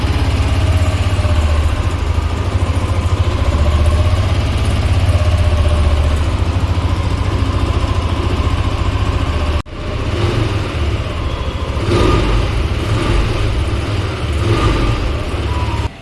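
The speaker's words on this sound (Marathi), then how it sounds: "स्कूटरचा एक्झॉस्ट नोट ऐकूया आपण" A Hero Xoom 160 scooter engine idles steadily with a low, even exhaust burble, briefly dipping before settling back into the same rhythm.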